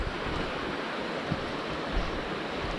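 Eliza Brook, a rushing mountain brook in the Kinsman area of New Hampshire, makes a steady broadband wash of flowing water, with wind gusts on the microphone and no voices.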